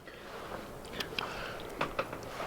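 Crunchy cheese pretzels from an MRE ration are chewed close up, with soft irregular crunches and bites in a quiet setting.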